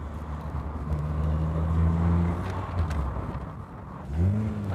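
A Peugeot 205 GTI engine hums on the road, then pulls and revs up with a rising pitch while it accelerates, loud and close with steady road noise beneath.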